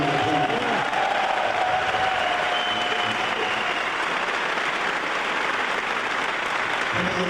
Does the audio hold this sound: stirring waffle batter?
no